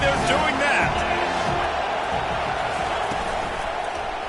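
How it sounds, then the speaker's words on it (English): Stadium crowd at a Notre Dame college football game roars in a broad, steady wash of cheering, loud and sustained throughout with no break. "They challenge this crowd to bring the energy, and I'd say they're doing that."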